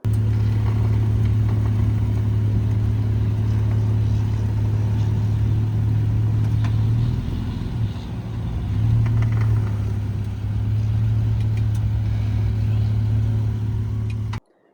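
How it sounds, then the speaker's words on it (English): A car reversing makes an odd, continuous low droning hum over the engine's steady running. The hum breaks off briefly midway, resumes, and then everything cuts out abruptly at the end. "So as you can see and hear, that when it was in reverse, that's when it made the noise"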